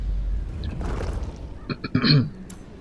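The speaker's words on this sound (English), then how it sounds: "pardon me if I clear my throat too much because just giving me some trouble this morning" A person clears their throat a couple of times, a short rough rasp near the end after a quiet stretch, close to the microphone.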